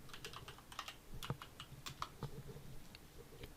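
Quick, irregular keystrokes clack on a computer keyboard at a PC, close and fairly quiet, in short bursts with brief pauses and no speech.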